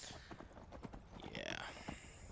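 Horse hooves clip-clopping over mountain terrain in the video game Skyrim, a few uneven hoof strikes mixed with game sounds and someone talking over them.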